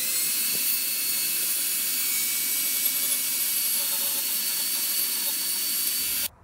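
Angle grinder running steadily on a concrete bonsai slab set with sandstones, a loud continuous high-pitched whine with a slight change near the start, cutting off abruptly at the end; no talking.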